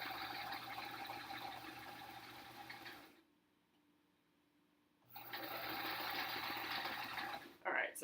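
A sewing machine stitches rows of improv quilt blocks in two steady, continuous runs, pausing for about two seconds in between before starting up again, close and moderately loud with a brief clatter at the end.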